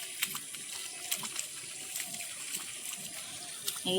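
Water pours steadily onto plant seedlings outdoors, a continuous hissing splash with small irregular spatters, moderately close and unbroken throughout.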